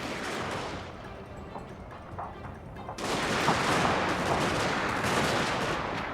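A dense crackle of musket volleys rolls across a battle in Fall of the Samurai, with scattered shots at first and then a louder, sustained wave of overlapping fire.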